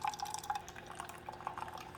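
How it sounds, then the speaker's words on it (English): A Keurig K-Select coffee maker running fresh water through to rinse out vinegar after descaling, giving a steady close trickle and drip of water with faint gurgles, no voices. "that's going to run fresh water through the machine to clean out the rest of that vinegar"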